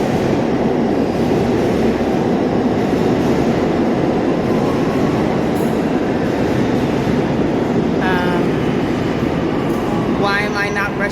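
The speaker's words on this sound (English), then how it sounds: "You're hearing a train come in." A New York subway train pulls into the 162nd Street and St. Nicholas Avenue station with a loud, continuous rumble of wheels on rails that fills the platform. High-pitched squeals rise near the end as it brakes.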